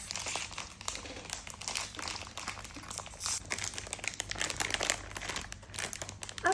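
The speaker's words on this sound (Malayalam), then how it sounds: "അപ്പം നമ്മൾ അൺബോക്സ് ചെയ്യുകയാണ് നമ്മുടെ മാക്രൂൺ." Crinkly plastic packaging of a Labubu macaron toy box from Pop Mart rustles and crackles close up as it is unwrapped, in irregular bursts with no talking.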